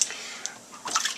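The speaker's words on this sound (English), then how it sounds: "As I go, I'm just going to slosh water around" Water sloshes around inside a bowl sitting in a kitchen sink, a short watery swish with light splashes and drips, fairly close and moderately loud with no voice.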